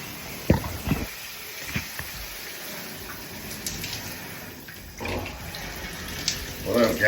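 A shower runs in a bathroom with a steady hiss of falling water. Irregular splashes and thumps break through the spray, and the flow roughens and grows louder toward the end.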